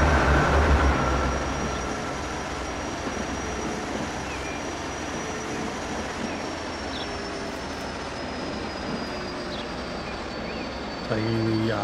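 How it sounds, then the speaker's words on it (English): A diesel multiple unit train departs in the transport simulation game Transport Fever 2, its steady, broad rumble continuing at an even level throughout. "And goes our DMU"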